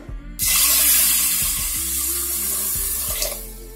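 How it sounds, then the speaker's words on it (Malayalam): Water pours steadily into a pressure cooker holding unsoaked green gram, a close, continuous splashing rush lasting about three seconds before it stops, with no talking. "ഇനി ഇതിലേക്ക് വേവാൻ ആവശ്യമായിട്ടുള്ള വെള്ളം ഒഴിച്ചു കൊടുക്കാം"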